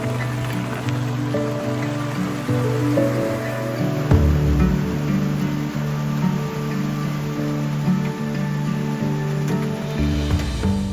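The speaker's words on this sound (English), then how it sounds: "Oh, it's pouring." Steady warm rain pouring down on a surface, a dense continuous wash of drops with no voices, holding at an even, fairly loud level throughout.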